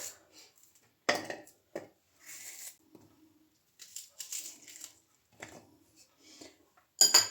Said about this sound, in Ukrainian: Отака, отака гарна велика цибуля. І я просто нарізаю на кусочки.